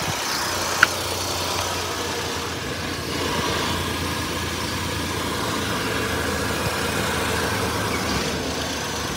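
A 2012 Nissan March XS engine idles steadily at close range with the AC compressor running, a constant low hum with a faint whirring layer and one brief click early on.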